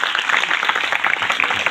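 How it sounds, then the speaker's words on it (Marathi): A crowd claps steadily at a public gathering honouring a maharaj in Mahadev Tekdi, the applause dense and sustained from start to finish with no voices on top. "त्याबद्दल टाळ्या झाल्याच पाहिजे"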